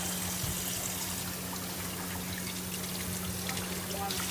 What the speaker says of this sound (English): I'm rinsing some tuna off.